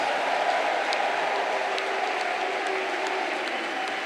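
A church congregation applauds and acclaims during a worship service, a dense, steady roar of clapping and voices that holds at an even level from start to finish without a break.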